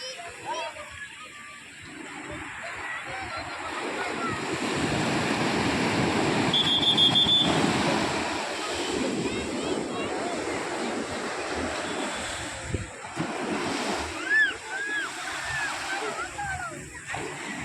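Ocean waves roll onto a crowded beach, surf swelling and receding under gusty wind noise, with people talking and calling out nearby through most of the stretch.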